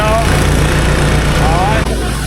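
Exmark mower with a 25 horsepower engine running steadily close by, a loud, constant low drone with a slight whine throughout and a brief dip near the end.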